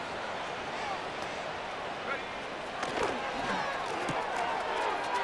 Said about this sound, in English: The crowd does not agree with that call. Boos ring out.